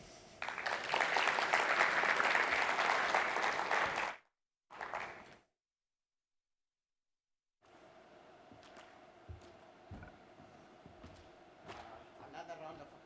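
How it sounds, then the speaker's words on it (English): An audience at a tech plenary session claps loudly for about four seconds, with a short burst after it, then silence. Quieter room noise and faint voices follow. "Another round of applause for Dr. Felipe."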